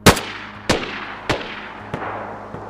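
Four single MP5 gunshots from the video game DayZ, heard from beyond 50 meters, each a sharp crack with a quick decaying tail, spaced about 0.6 seconds apart and growing slightly fainter.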